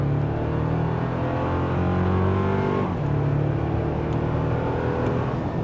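A 2024 Toyota Tacoma TRD pickup accelerates hard on a straight road with a slight downhill grade, its engine droning loudly and climbing in pitch through gear changes without any speech.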